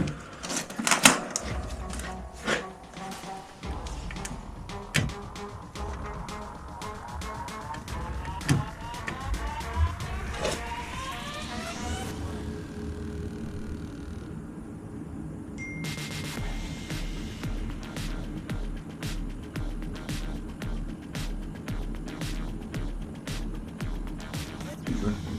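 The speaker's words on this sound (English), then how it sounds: "We're gonna energize the fan and see what we can hear." An HVAC blower fan is energized with a mouse in the blower, and its motor whine rises as it spins up amid scattered clicks and rattles, then settles into a steady, moderately loud whooshing hum.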